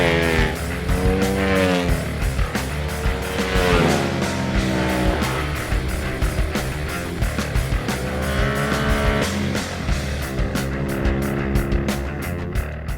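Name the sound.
2012 Ducati 1199 Panigale S with Termignoni racing exhaust on track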